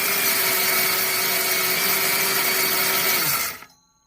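A Vevor 2500g electric grain mill grinds wheat with a loud, steady motor whine and rushing grit noise. The whine holds unchanged for over three seconds, then the mill abruptly shuts off and falls to near silence.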